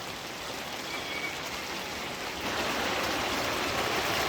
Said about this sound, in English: Oh, this is a nice hard rain.